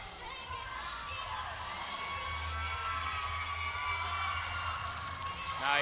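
A crowd cheers at a cheerleading championship, sending a steady wash of distant shouts and whoops that stays level for several seconds, with voices mixed in.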